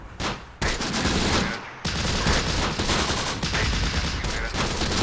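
Mortar and gunfire in the World War II strategy game Close Combat: The Bloody First, with dense, continuous volleys of gunshots and explosions packed into a loud battle din, barely a pause throughout.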